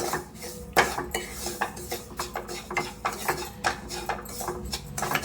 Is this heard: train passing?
no